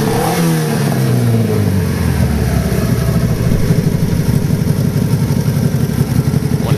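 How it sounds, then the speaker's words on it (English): Close and loud, a Nova kit car engine revs up from a low rumble, its pitch sweeping upward before settling into a fast, steady, throbbing run. "Three revving engine now."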